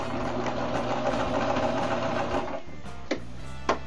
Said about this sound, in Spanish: Terminamos de coser.